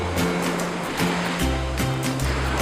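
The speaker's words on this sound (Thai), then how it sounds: "คลื่นค่อนข้างจะแรงนะครับผม" Strong sea waves break at Bangsaen beach in Thailand, a loud continuous rushing wash with repeated surges, accompanied by a low steady droning tone underneath.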